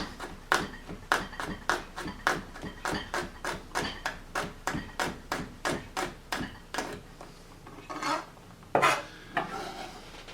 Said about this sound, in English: we're just going to thinly slice this